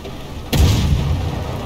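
A submarine deck gun fires in the naval game Uboat, a single heavy boom with a sharp onset followed by a long rumbling low tail, loud and close.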